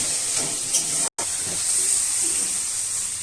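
Water poured into hot oil while cooking doi rui, a yogurt rohu fish curry, gives a loud, steady, close hiss and sizzle that carries on with one very brief break.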